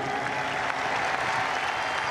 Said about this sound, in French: Je vous trouve très discret quand même pour applaudir le 2e du Vendée Globe